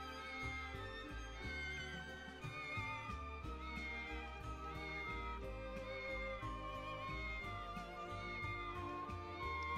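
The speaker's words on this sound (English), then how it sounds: "Oh, it's a cat." A cat meows in a video game, set against a dense, steady bed of game music that runs throughout, the cat sounds blending into the layered score rather than standing out alone.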